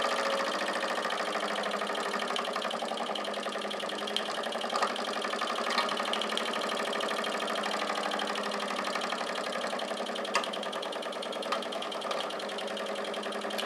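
A model steam engine runs slowly with a steady mechanical chuffing and rhythmic ticking, moderately loud and close, with occasional sharper knocks, and no talking.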